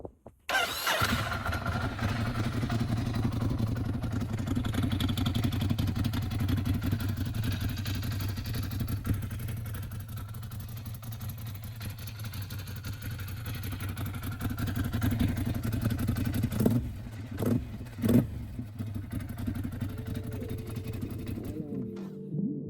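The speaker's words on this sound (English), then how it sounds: "I'm now gonna get it going so you guys can hear the exhaust and how it looks." A Ducati motorcycle with a fender delete and tidied tail fired up and idling, a steady, fairly close engine rumble through most of the clip, then a few sharp throttle blips near the end before it settles back to idle.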